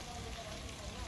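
Steady rain from storm Fiona pours down on surfaces during flooding at Los Frailes, a dense, even hiss that stays constant throughout.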